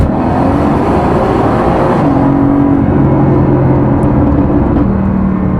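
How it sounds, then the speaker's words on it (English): A Bentley Supersports revs and accelerates loudly and continuously, its engine note rising with quick, crisp transmission shifts, no voices over it. "the noises, the transmission shifts being so crisp and fast"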